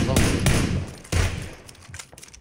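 Several sharp booming shots crack out in quick succession in PUBG: Battlegrounds, followed by fainter scattered pops of game gunfire at varying distances.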